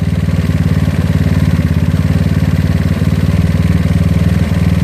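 A GY6 scooter engine fitted with an OKO PWK 30mm carburetor runs at a steady, loud idle with a rough, uneven pulse while the carburetor is being tuned, heard close up and alone without talk.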